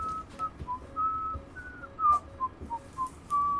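Someone whistles a melody of short, clear notes, close and alone with no talk, during a tabletop role-play session.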